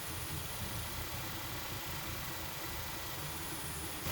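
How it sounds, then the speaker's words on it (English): A Nissan Altima 2.5-liter QR25DE engine idles with a steady, low rumble throughout, with no revving or change in pitch and no voices, during a thermostat replacement and coolant refill. "let the car idle for about 10 minutes or so just to make sure everything's good"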